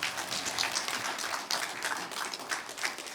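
A church congregation applauds together at the close of a prayer during a New Year revival service, a steady crowd clapping that holds across the whole stretch with no one speaking over it.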